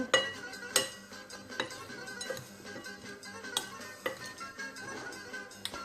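Utensil stirring Greek pasta salad dressed with oil and paprika in a bowl, with soft clinks and scrapes at an irregular rhythm, close and fairly quiet, no voices.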